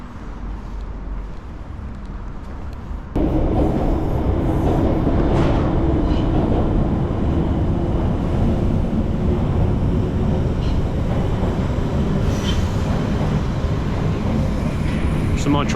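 A Piccadilly Line Underground train rumbles on the platform at Heathrow Terminal 5, a loud, steady low roar that swells after a few seconds and holds, with a voice speaking over it.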